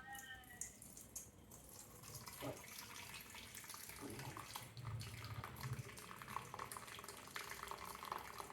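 Water drained from cooked tomatoes while making tomato chutney, a steady splashing, trickling pour close by that runs continuously from start to finish at a moderate level.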